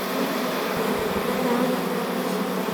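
Honey bees massed in a hive lodged in the ceiling of a farm building, a dense, continuous buzzing drone, steady and fairly soft, with no voices over it.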